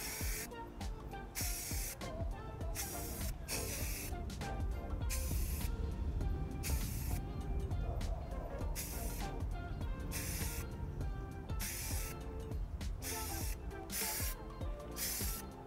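Steady hissing of a spray paint can painting a graphics card, in short repeated bursts, close and fairly loud, with brief gaps between passes.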